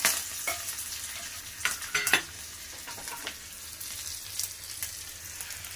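Hot oil tempering of mustard seeds, chilli, asafoetida and curry leaves crackles and sizzles softly in a pan while being stirred, with a few sharper pops and utensil clinks over a low, constant hiss.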